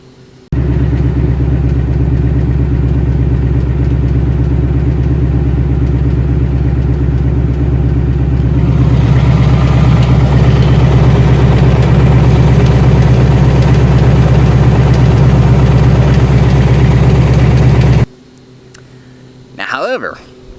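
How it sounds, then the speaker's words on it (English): A 2018 Ford Mustang GT with the Coyote V8 idling steadily with a light motor tick, a loud, close, even drone with a slight lift partway through, then a near-silent stretch and a short burst of sound. "do I have the infamous motor tick? And the answer is yes."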